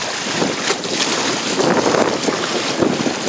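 Strong wind roars across a small sailboat on open water during the Everglades Challenge, a steady gusty rush with buffeting on the microphone and no voices.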